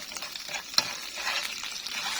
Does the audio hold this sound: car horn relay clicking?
no